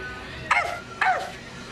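A voice imitates a chihuahua, giving two short, high yapping barks about half a second apart, close and clear over a quiet background.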